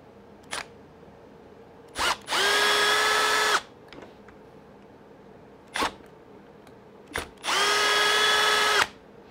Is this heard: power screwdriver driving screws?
yes